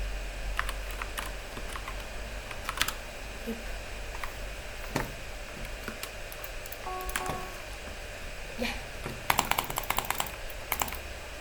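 Computer keys click in scattered single presses and a quick burst near the end while someone plays Bedwars, fairly faint and close, with little else beyond a soft background hum.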